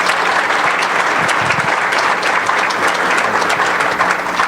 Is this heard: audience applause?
yes